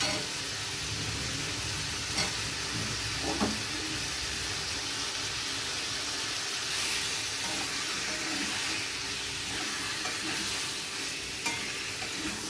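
Potatoes, spices and raw chopped tomato fry in a pan while being stirred. A continuous, fairly soft sizzle runs throughout, with occasional scraping and clinking strokes from the stirring.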